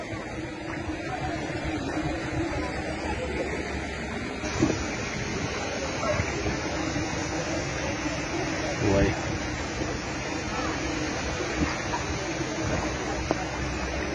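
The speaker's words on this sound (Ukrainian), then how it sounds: "А тут швидка течія." A fast-flowing current of warm thermal water at the Kosyno thermal baths rushes and splashes in a continuous, steady roar close by, with occasional talking nearby.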